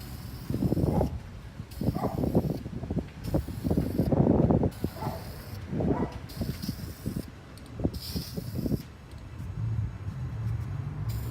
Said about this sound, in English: every time I pick up the spray can